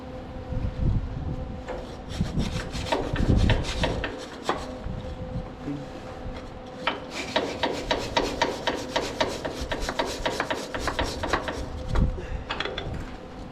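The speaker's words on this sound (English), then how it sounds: "let me wire brush it off" Wire brush scraping metal on a Case 8840 windrower under repair, with rapid rasping strokes in bursts, close and fairly loud, with brief pauses between runs.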